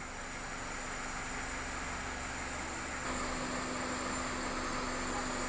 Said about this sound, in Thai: Honda CRV G2 หลังซ่อมคอมแอร์ อาการมีเสียงดัง